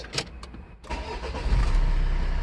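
A Renault Espace IV engine starts in a close interior recording: a brief cranking whir, then the engine catches and settles into a steady, loud low idle.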